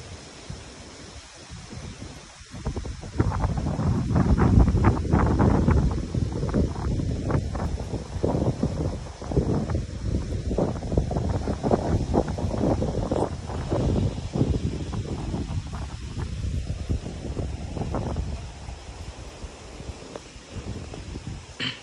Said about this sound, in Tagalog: Ang update sa ato ang usog nga ulan ug hangin.